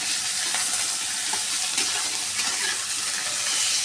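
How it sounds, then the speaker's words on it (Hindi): Onions lightly frying in a pan for a bitter gourd curry with dried mango, giving a steady bright sizzle with a few soft stirring scrapes. It sounds close, and no one talks. "प्याज को बहुत ज़्यादा नहीं भूनना है, बिल्कुल हल्का सा भूनना है, बहुत कम भूनना है।"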